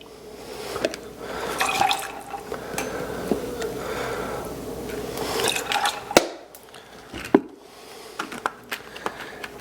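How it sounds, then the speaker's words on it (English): Cranberry juice pours steadily into a container for several seconds, a continuous splashing fill, followed by a few clinks and small knocks. "Now we're going to go ahead and add our 2 parts of cranberry juice."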